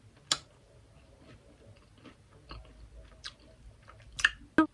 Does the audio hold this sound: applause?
no